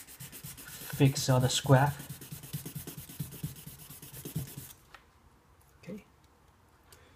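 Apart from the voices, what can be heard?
sanding Tamiya Mini 4WD part with 1000-grit sandpaper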